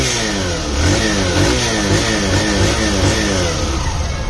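A 2023 Hero Super Splendor XTec motorcycle with a BS6 phase 2 engine runs loud and close, its single-cylinder exhaust throbbing steadily as the throttle is blipped into a brief rev and held.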